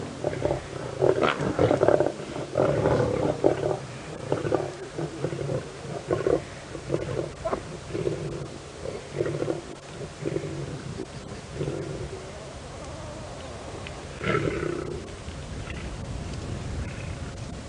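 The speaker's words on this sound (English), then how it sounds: "that one lioness just lost her temper with the other one" Lionesses of the Nkuhuma pride fighting each other on a safari drive, giving low, rough growls and snarls that rumble on steadily at a moderate distance, with faint birdsong in the background.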